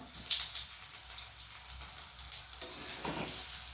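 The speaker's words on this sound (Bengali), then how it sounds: "খুব ভালো করে লাল করে আমি ভেজে নেব।" Soybean chunks fry in hot oil in a pan, making a continuous close hiss and crackle with a brief louder burst partway through. No one speaks.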